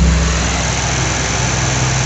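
An electric motor runs as the load on a 100 amp MPPT solar charge controller, giving a steady, loud, unbroken hum with low mechanical whirring and no talk.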